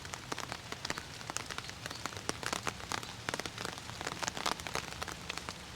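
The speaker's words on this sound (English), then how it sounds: "The rain's starting to come down a little bit harder now." Light rain falls in a suburban garden in mid October, with steady patter and scattered close drops striking leaves and surfaces, and no voices.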